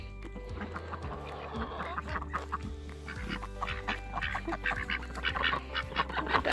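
Ducks quacking around a farmyard among other livestock, calls coming in irregular bursts over steady low background noise, growing busier and louder toward the end.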